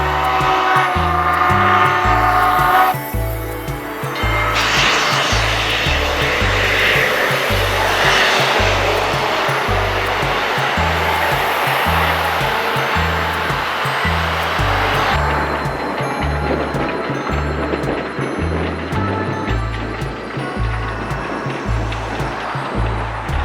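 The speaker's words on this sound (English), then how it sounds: "a quick little pit stop for yet another crossover of modern and rustic with this Southern steam engine" Southern 4501 steam locomotive passing near a Walmart, a loud close rumble with a rhythmic pounding of wheels and rods under a broad hissing roar that swells and carries on steadily for the whole stretch.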